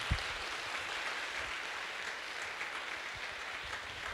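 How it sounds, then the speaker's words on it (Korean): Faint, distant audience applause at a Christian CCM concert in a church, a steady soft patter of clapping held at a low level throughout with no talking. "우리 다시 한번 큰 박수로 보내드리겠습니다."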